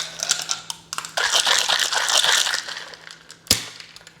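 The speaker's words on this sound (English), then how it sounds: "We'll add some ice to our shaker." Ice cubes are dropped and rattled into a cocktail shaker holding orange and pineapple juice, giving irregular clinks and crunchy clatter, then a burst of vigorous shaking, a short pause and a final sharp clatter, close and clear.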